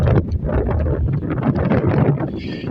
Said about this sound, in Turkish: aşırı rüzgar var